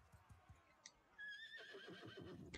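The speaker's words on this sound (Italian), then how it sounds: "Premendo due volte spazio il cavallo si impennerà." A horse in the video game Bannerlord rears and whinnies, a bright rising neigh after a few soft hoof-like thuds, carrying on loudly and fairly close for over a second over a busy background of game noise.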